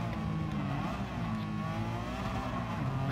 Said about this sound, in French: Et le son moteur, de la tuerie.